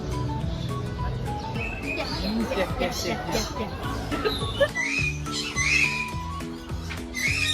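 Birds chirp in the busy Mong Kok Bird Street market, scattered high tweets and calls rising over a constant murmur of crowd and street noise, with a voice speaking throughout.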